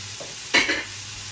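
Onions, peppers, celery, carrots, garlic and rosemary sweating in a pan for Bolognese: a low steady sizzle with one brief stirring scrape near the middle, close and quiet, no voices.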